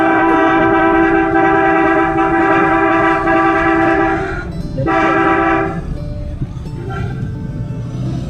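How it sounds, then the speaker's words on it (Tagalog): A loud, sustained horn blares steadily for several seconds, cuts out briefly, sounds again, then fades against rumbling traffic noise. "Busina, busina."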